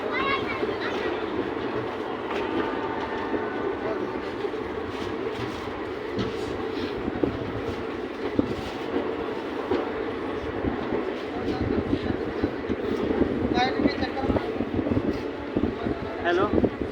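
The 13043 Howrah Raxaul Express departs with a continuous rumble and rhythmic wheel clatter heard from inside a general class coach, while people nearby talk throughout.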